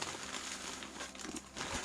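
Stiff bridal dress fabric on a Barbie doll rustles and crinkles continuously up close, a dense papery crackle with no voices.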